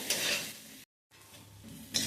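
Potatoes frying in a kadai for Assamese aloo dum, a steady sizzle with scraping stirring, broken by a short silent gap before the frying and stirring resume close by.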